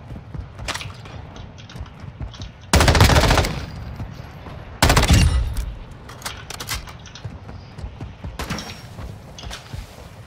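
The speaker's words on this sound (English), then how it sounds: "He's shooting without even looking at me." Automatic gunfire from a Call of Duty DMZ match, with short bursts up front and two loud sustained volleys, followed by scattered quieter shots, close and dominant with no talk over it.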